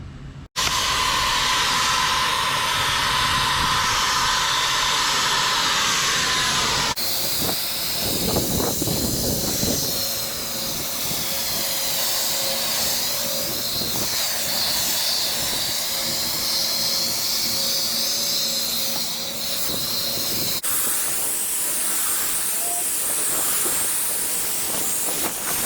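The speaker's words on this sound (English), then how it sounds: "I'll do a test spray and make sure everything is the way it should be." A spraying product being test-sprayed before finishing storage shelves, heard as a loud, continuous hiss that holds for several seconds, then gives way to other steady hissing and rushing noise with no talk.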